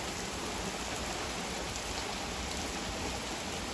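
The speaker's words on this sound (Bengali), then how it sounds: "বৃষ্টি বৃষ্টি বৃষ্টি বৃষ্টি বৃষ্টি বৃষ্টি" Rain falls in a steady, even hiss with no breaks, soft and continuous throughout.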